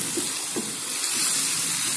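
A kilogram of peeled, cut potatoes going into a pan with green chillies and tomatoes for aloo salan, a brief, even hiss of sizzling with a soft watery wash, no voices.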